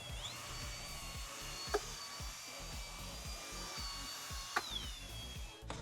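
A power drill with a brush attachment whirs steadily with a high motorized whine while scrubbing airplane interior carpet in rhythmic strokes underneath, with two short sharp clicks.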